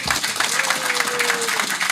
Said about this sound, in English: Round of applause for Konstantin.